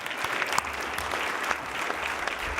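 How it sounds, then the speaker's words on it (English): Loud, dense applause from an audience at a Business Leadership Award speech, sustained and even with scattered sharper claps throughout. "that's a round of applause"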